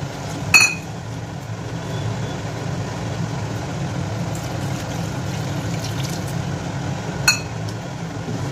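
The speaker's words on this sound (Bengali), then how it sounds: "এবার ধীরে ধীরে আমি নারকেলের দুধটা এতে মিশিয়ে নেব।" Coconut milk is slowly poured and stirred into a prawn moilee curry in a pan. A soft, steady hiss of liquid is broken by two sharp clinks of a utensil against the pan.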